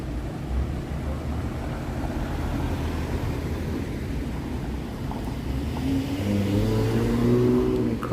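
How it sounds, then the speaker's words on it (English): Night traffic on Cumberland Avenue in Toronto on a Sunday evening, a continuous broad rumble of passing cars with an engine revving and pulling away toward the end, no voices. "Not expecting traffic on Sunday night on Cumberland Avenue."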